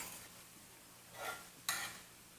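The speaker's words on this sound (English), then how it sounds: "Once these cast iron pans start cooking, you gotta keep shit moving in the pot." Food sizzles faintly in a cast iron pan, with two brief bursts of louder hiss and stirring scrapes over a low, steady fry.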